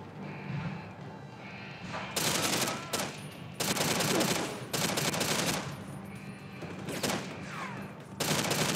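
Video game gunfire in rapid bursts, loud and close, coming in several clusters of shots with brief quieter gaps between them.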